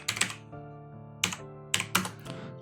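Quick keystrokes on a computer keyboard, a few crisp clicks in small clusters with brief pauses between, close and fairly quiet, no voices.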